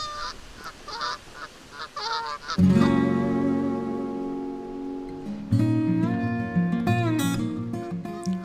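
Canada geese honk repeatedly outdoors, loud nasal calls in overlapping bursts that grow denser and more layered partway through, with no talking.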